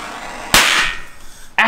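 A mini DIY hydrogen HHO cannon firing, one sharp, loud, close bang that decays over about a second, followed by a second abrupt impact.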